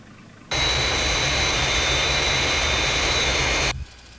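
Fireflash airliner's jet engines on landing approach, a loud steady roaring whine with a high tonal whistle that starts abruptly, holds for about three seconds and cuts off.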